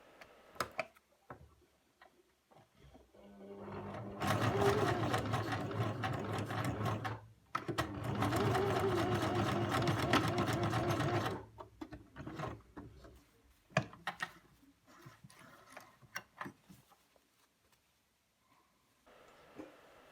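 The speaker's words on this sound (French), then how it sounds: "bloquez-le par une couture dans le sillon de la couture côté" A sewing machine stitches elastic into the side-seam groove of a skirt, running in two loud, steady bursts of rapid mechanical ticking, followed by quieter clicks and handling noises.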